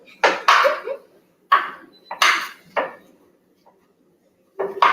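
A knife chops food on a cutting board in a home kitchen: about six sharp, close knocks in uneven pairs and singles, separated by short pauses.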